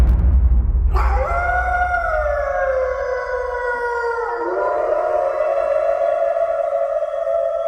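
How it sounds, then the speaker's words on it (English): Wolf-like howl within a music video, a rising sustained tone with rich harmonics sliding down near the end, loud and continuous over a low rumbling backdrop. "not the first wolf howl, but the pack answering"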